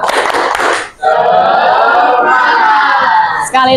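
A class of grade-8 students performing the 'tepuk semangat' spirit clap, a loud burst of rhythmic claps followed by a sustained chanted group shout, close and energetic.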